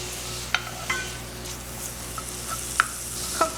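Chopped onion, garlic and pimento cook in melted butter in a pan for a fish roux sauce, a steady soft sizzle broken by a few sharp taps of a stirring utensil, close up with no voices.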